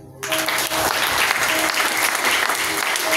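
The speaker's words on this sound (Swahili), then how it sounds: "Pigia Agri makofi." A church congregation breaks into loud, dense applause that runs on steadily, with a few voices calling out over the clapping.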